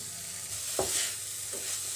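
Cheese roll filling with spices and sauces sizzles and fries in hot oil, a steady close hiss with a couple of brief stirring scrapes.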